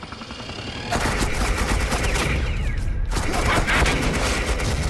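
Suppressing gunfire erupts in Batman: The Enemy Within, a loud, dense burst of rapid automatic shots that starts abruptly, briefly thins, then surges again at full intensity.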